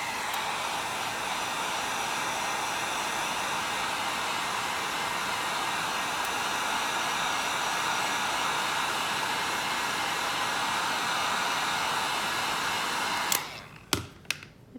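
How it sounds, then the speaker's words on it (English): A heat gun blows a steady, loud stream of hot air at close range to soften the adhesive on a label stuck to an acrylic epoxy tumbler, ending with a few sharp clicks and handling noises as it shuts off. "I always use my heat gun to get this label off"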